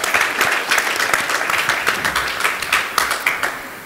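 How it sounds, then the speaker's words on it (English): An audience applauds steadily after a call to cheer a Baroka FC figure at a South African event, the dense clapping filling the whole stretch at close range with no talk over it. "Give him a big round of applause."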